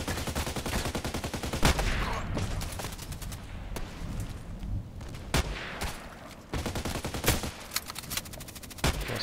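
Video game gunfire with sharp sniper rifle cracks standing out at irregular intervals, loud and close, over a steady background of rapid automatic fire throughout.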